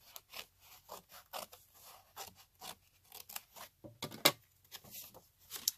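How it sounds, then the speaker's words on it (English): Scissors cut across a tag on a hard cover book being repurposed as a junk journal, a series of quiet, crisp snips and scrapes spaced irregularly and heard up close. "so I'm just going to cut across"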